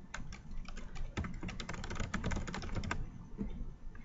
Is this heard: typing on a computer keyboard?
yes